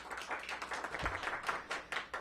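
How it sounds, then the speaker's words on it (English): Scattered clapping from a small crowd gives a round of applause for Dr. LaQuandra Nesbitt at a DC first-responder COVID-19 vaccination event, fairly faint and uneven over a couple of seconds. "give her a big round of applause"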